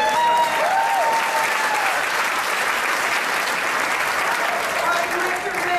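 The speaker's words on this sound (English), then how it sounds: "This guy deserves a round of applause before everybody else." A crowd applauds loudly and steadily, dense clapping filling the whole stretch, with a brief voice audible at the start.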